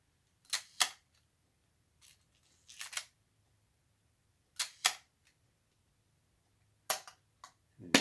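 Several pairs of crisp mechanical clicks and ratchets from an old film camera's film advance lever, spaced a second or two apart, close-up in a quiet room.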